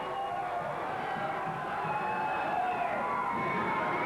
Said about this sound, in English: And the crowd loves it here at Empire Pro Wrestling.